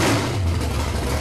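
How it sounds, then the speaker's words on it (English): Loud, close roar of a street stock race car engine at Macon Speedway, a sustained low, rumbling drone with steady power and no talking over it. "The sound of the engine."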